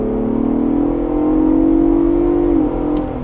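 Twin-turbo V6 of a 2024 Ford Bronco Raptor revving hard in sport mode after a downshift to third, a loud, steady close-up engine roar climbing in pitch, then easing briefly near the end.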